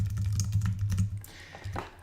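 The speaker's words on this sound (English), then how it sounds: "I'm just going to sort of type a quick little description here" Quick typing on a computer keyboard, a close run of light clicking keystrokes over a faint low hum, with no talking.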